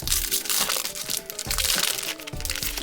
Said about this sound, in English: I'm just like that old school addict that likes to just open the packs and crack them